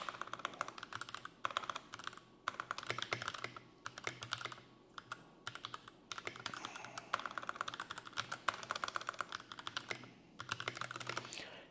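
Quiet, steady typing on a computer keyboard, rapid clicking keystrokes in uneven bursts with brief pauses, close and alone.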